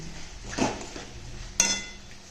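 Potatoes and prawns go into a pan in a home kitchen, giving two brief clanks of metal utensils against cookware, the second sharper and ringing, over quiet background hiss.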